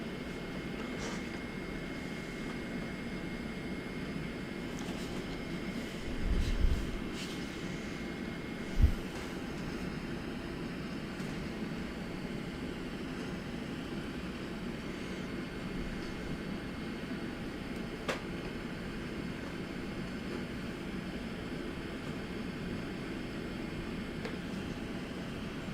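Airliner engines spooling for takeoff in a flight simulator game, a steady low droning roar throughout with a couple of brief thumps early on, fairly faint.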